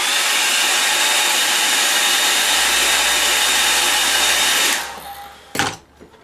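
A hair dryer blowing loudly and close in a steady rushing whoosh, used to dry paint on a painting of a mountain cottage, cutting off after about five seconds, followed by a brief clatter as it is set down.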